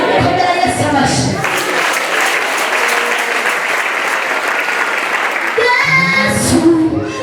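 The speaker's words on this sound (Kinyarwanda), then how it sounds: "komera Yesu amashyi" Worshippers at a church service break into loud, sustained clapping for Jesus lasting several seconds, with a voice speaking just before it swells and again as it fades.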